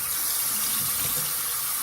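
Cold tap water rinsing cooked rotini pasta in a kitchen, a steady, even hiss of running water pouring without breaks for under two seconds.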